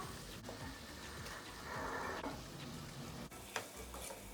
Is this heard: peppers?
yes